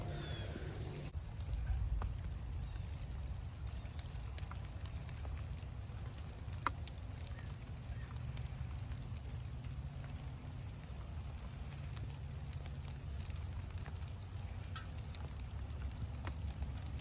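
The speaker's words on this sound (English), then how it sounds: "It's raining again." Rain falling outdoors as a steady, even patter and hiss that continues unbroken throughout, fairly soft and close, with no voices.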